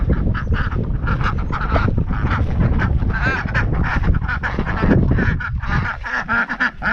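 Ducks quack and honk loudly and continuously, several birds calling over one another close by.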